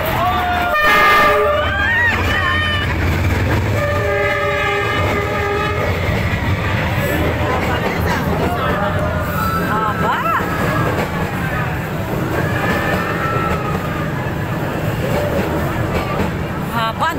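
A train rolls slowly along the narrow Vietnam train street, close and loud, with repeated horn toots, rumbling wheels and clickety-clack, while onlookers talk and exclaim nearby.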